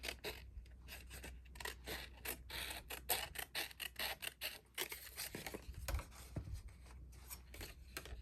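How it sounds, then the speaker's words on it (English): Scissors cut paper for an altered file folder junk journal folio, making quiet, close snips in quick irregular bursts with short pauses and faint paper rustling between them. "Then just take my scissors"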